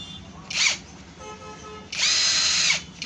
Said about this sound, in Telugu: ఇప్పుడు బ్యాటరీ పెట్టి ఒకటి రన్నింగ్ చేస్తాం మిషను